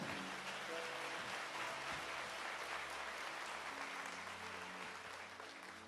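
A congregation claps during a church service, a broad patter of many hands, steady and fairly distant, with faint sustained tones from an organ or keyboard underneath, easing off toward the end.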